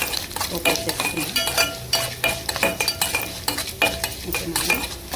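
Tempering spices frying in ghee in a pan, a metal spoon stirring and scraping repeatedly in quick, uneven strokes over a soft sizzle, close by and without talk.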